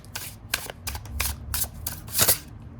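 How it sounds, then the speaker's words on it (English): A tarot deck from an animal-themed collection is riffled and shuffled repeatedly, giving six or so crisp, rapid card flurries in close succession, near and fairly loud. "Okay, more shuffles, more shuffles."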